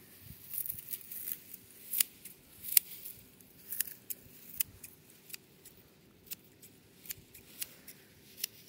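Garden plants trimmed with scissors, a string of short crisp snips and clicks recurring at an uneven pace, fairly close but quiet, with no voices.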